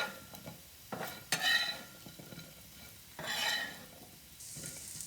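Home fries crackle softly in a pan as a utensil turns them, with quiet scraping and stirring and bursts of sizzle after each turn, close and faint, no talking.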